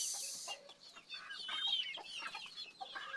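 In a backyard, Rhode Island Red and native chickens cluck softly, close by and without a break. A short bright squawk rises partway through, and no one speaks.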